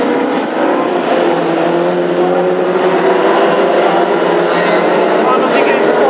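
Classic hot rod race cars at Hednesford roar past in a continuous, loud engine drone during a final, steady revving and multiple engines blending together.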